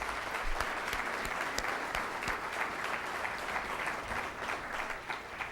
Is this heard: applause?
yes